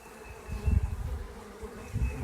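A swarm of honey bees hums steadily, close and dense, the drone swelling and easing in low waves as the swarm is shaken down, with several queens among the bees.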